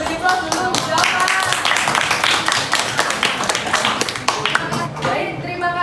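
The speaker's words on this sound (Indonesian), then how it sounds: "Oke, kita beri aplaus dulu." Classroom applause from a group of students, steady overlapping clapping sustained for several seconds at close range, with voices mixed in.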